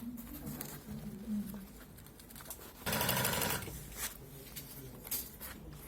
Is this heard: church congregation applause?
no